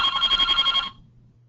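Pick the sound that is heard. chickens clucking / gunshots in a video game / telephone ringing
telephone ringing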